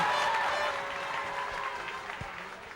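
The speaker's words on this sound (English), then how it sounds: "Well, a big cheer there" A crowd at a county hurling final cheers and applauds, a broad, sustained roar that slowly fades, with scattered claps and a faint voice underneath.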